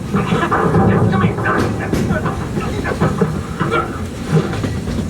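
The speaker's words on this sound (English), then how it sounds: "It's a train." The Walt Disney World Railroad train rolls along with rhythmic clacking and hissing in the evening, close and steady, with voices mixed in.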